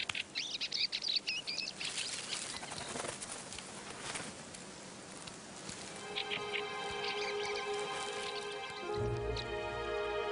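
Fieldfares call in a winter orchard. Bright chirps cluster at the start and then give way to sustained tonal sound, with faint background noise throughout.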